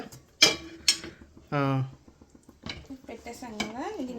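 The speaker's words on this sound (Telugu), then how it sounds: "ఇదిగోండి పెనం పెట్టేస్తున్నా పొయ్యి మీదే" A metal griddle pan clanks sharply a few times, with scraping and a ringing tone, as it is set down on a stove; a voice talks in between.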